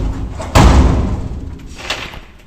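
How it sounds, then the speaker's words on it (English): An old lift's vertical inner door is raised with a sudden loud metallic clank and thud, followed by a rumbling slide that fades, then a second fainter knock near the end. "vertical door on the inside"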